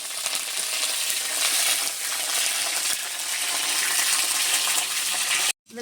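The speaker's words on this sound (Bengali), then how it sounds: "ডিম আলু আর এদিকে উচ্ছে পেঁয়াজ আর রসুন দিয়ে দিয়েছি, তেলে ভেজে নিচ্ছি" Bitter gourd, onion and garlic fry in hot oil, giving a steady, close sizzle that runs nearly unbroken before stopping abruptly at the very end.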